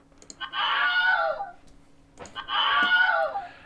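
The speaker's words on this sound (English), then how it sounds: "The Wilhelm Scream" The Wilhelm scream movie sound effect plays twice, each a loud, shrill cry lasting about a second, separated by a brief pause.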